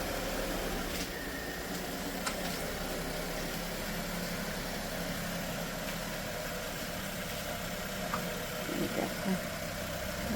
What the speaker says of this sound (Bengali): এইভাবে আমাদের গাড়িটা যেহেতু রাস্তা সরু তো এইভাবেই বের করতে হয় আস্তে আস্তে আস্তে